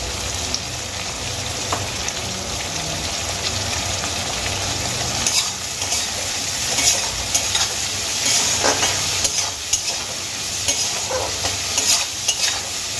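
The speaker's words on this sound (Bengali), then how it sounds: "আবারও একবার আমি খুব ভালো করে নাড়িয়ে নিলাম।" Whole garam masala spices (cardamom, cinnamon and cloves) fry with a little salt in a pan. A continuous close sizzle runs throughout, with scraping spatula strokes rising and falling as the spices are stirred. No voice is heard.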